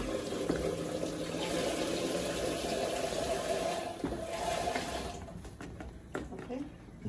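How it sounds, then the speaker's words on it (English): Water runs from a tap to fill a pot for goat meat and prekese soup, a steady splashing rush that thins out near the end, with people talking over it. "fill this with water for me"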